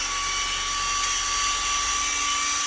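A GROSSER cordless grass trimmer motor whines at a steady high pitch, loud and close, with a constant tone and no talking.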